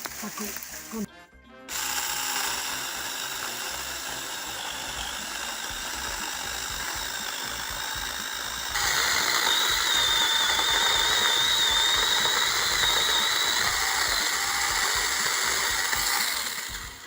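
A TEX.AC TAOE-S4 cordless mini chainsaw drones steadily for most of the clip, rising in pitch and intensity midway as it bites into a fallen branch, then easing off near the end.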